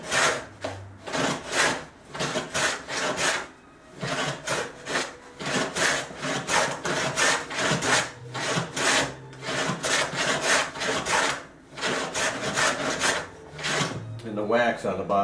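A Sandusky 177 dado plane cuts into wood in repeated rhythmic strokes, each a raspy shaving swish, close and loud, taking off a little material at a time.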